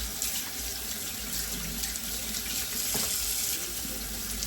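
A kitchen faucet runs steadily into a sink as chitlins are rinsed, a continuous close splashing hiss of flowing water with no talking.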